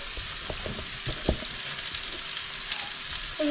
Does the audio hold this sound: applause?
no